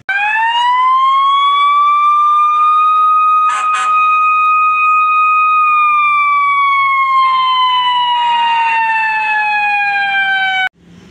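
A fire truck siren wails loud and close in one long, smooth rising and falling tone that holds for about ten seconds before cutting off abruptly, with a brief clatter partway through.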